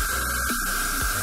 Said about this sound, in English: I've got the trigger full back and I'm spraying at 40 psi